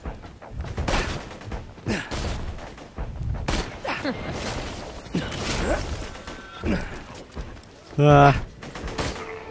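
Shotgun blasts in Borderlands 2 during a firefight, with repeated loud punchy shots in an irregular rhythm, mixed with game mechanisms and a brief electronic tone, while a man briefly exclaims.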